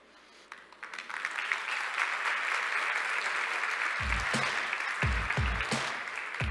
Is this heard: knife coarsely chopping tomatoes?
no